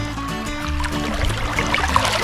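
Clear mountain stream water runs steadily nearby, a continuous rushing trickle with small bubbling splashes, fairly loud and unbroken throughout.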